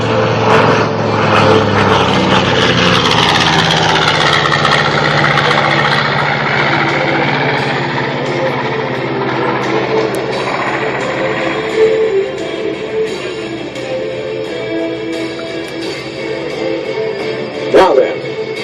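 Radial piston engines of a B-25J Mitchell bomber drone loudly during an airshow pass, a sustained throbbing roar that fades slightly, with an announcer talking over it.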